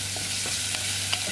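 Onions sweating with a pinch of salt in a pan, a dense, even hiss of frying close up with a few faint stirring ticks, no voices.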